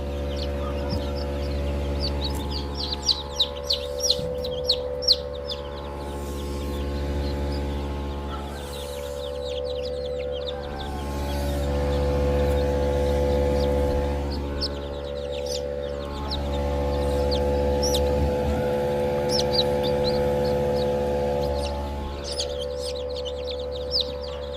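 Incubator-hatched chicks peep in a brooding setup, their high, rapid chirps repeating over a constant low mechanical hum, close and fairly loud.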